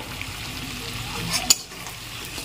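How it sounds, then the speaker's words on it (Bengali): Chicken curry with whisked sour yogurt sizzles steadily in a pan as it is stirred, soft scraping strokes under the frying hiss with a couple of sharp utensil clicks near the end. "আরও একটু নেড়েচেড়ে মিশিয়ে নিচ্ছি।"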